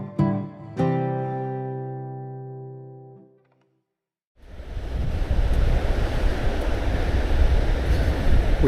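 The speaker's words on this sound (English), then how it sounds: "We have some surf." Ocean surf rolls in at Hastings Pier as a steady, loud wash of breaking waves with wind buffeting the microphone, after a few seconds of a ringing, decaying tone and a brief silence.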